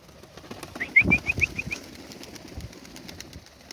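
Pigeons of the Polish Mikołajewskie and orlik breeds in moult give a short run of soft calls and chirps over faint background noise, with a brief flutter of wings; no one speaks.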